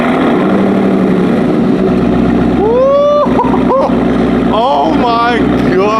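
Dodge Durango Hellcat with an AWE Touring exhaust cranking over and firing up, a low rumble that swells into a loud, rising engine roar with revving, and excited voices talking over it.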